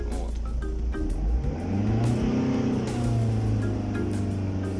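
A 1996 Mazda MPV with the WLT engine revs steadily at about 3000 rpm, a loud sustained drone with a slight rise and dip in pitch that continues throughout.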